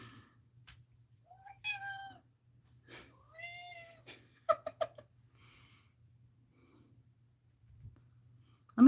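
A house cat meows several times in a quiet room, with short chirpy calls spread out over time among soft rustles and light footfall clicks, close by, over a low hum.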